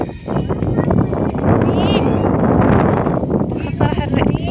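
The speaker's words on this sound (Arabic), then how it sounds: "خاصة راح الريح دابا عاد تحرك الريح" Wind blows steadily across an outdoor microphone beside a lake on a road trip near Ouazzane, a loud continuous rush and buffet filling the whole stretch with no pause.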